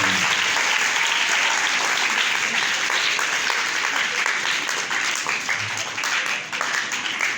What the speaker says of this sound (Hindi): फादर जी के लिए बहुत सारी तालियां।